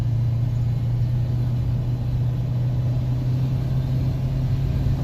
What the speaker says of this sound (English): Holy cow, this truck's running good.